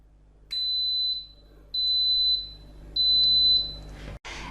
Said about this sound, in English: Instant Pot will beep, and that will tell you it knows what to do